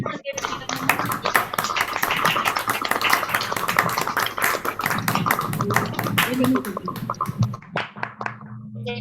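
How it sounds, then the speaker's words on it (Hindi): Participants in an online worship fellowship clap loudly over unmuted microphones, producing a dense, uneven flurry of sharp claps from many hands, with talking heard through it, before the clapping tapers off to a few scattered claps. "हम सब अपने माइक को अनम्यूट करेंगे और जोरदार ताली हम परमेश्वर के लिए बजाएंगे"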